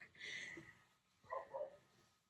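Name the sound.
dachshund (weenie dog) barking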